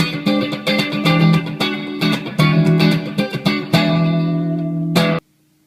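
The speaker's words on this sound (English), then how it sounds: "you're dampening down more of those higher, the brightness of the reverb" Electric guitar chords and notes ring through a dark, smooth Strymon Blue Sky reverb with high damping, the tails decaying without much sparkle before cutting to near silence.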